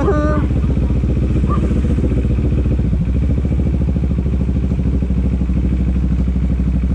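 A motorcycle engine runs close by at a steady idle, a loud, continuous throbbing rumble with a slight shift in tone partway through.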